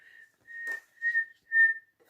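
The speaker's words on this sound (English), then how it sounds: "the 4 whistles" Four short whistle blows on one steady, clear pitch, close and alone, with brief gaps between them and the later blows a little stronger.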